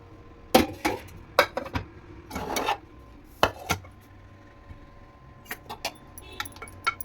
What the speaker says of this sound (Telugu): కందిపప్పు ఓపెన్ చేద్దామండి. ఉడికిపోయింది బాగా. దీన్ని స్మాష్ చేసుకుందాము.